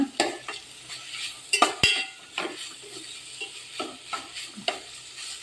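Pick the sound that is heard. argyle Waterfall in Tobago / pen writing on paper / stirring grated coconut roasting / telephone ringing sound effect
stirring grated coconut roasting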